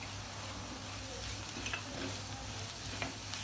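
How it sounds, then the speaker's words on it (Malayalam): Pepper is stirred into chicken in a pan, a faint, even sizzle with a few soft spoon taps, heard alone without talk. "ഇനി നമ്മുടെ ബാക്കിയുള്ള പെപ്പർ ഇട്ട് കൊടുക്കാം."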